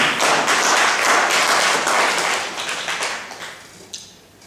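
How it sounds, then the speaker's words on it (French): An audience at a quiz match applauds a correct answer, a dense, loud burst of clapping that thins out and fades over a few seconds with a few last scattered claps. "C'est la bonne réponse, applaudissez s'il vous plaît."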